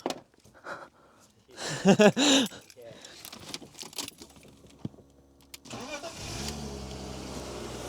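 A BMW E36 project car starts up after several clicks, a whirring burst and some handling noise inside the car; the engine then catches and settles into a steady idle.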